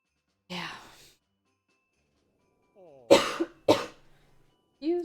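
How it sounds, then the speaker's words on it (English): Two sharp, close coughs in quick succession from a person during a casual Breath of the Wild gaming stream, with brief vocal sounds before and after. "I'm coughing."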